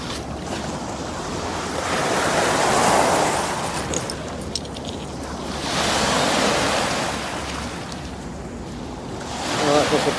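Waves washing in along the Thames foreshore, swelling and fading in slow surges around three, six and ten seconds, with wind buffeting the microphone throughout and no talk.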